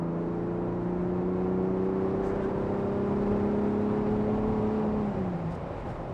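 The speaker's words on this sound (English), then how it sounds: "The exhaust and the engine sound isn't quite bad for being a twin turbo V6." Twin-turbo V6 of a 2023 Ford Bronco Raptor droning steadily from inside the cabin at highway speed, a smooth engine and exhaust hum that eases off near the end, with no talking.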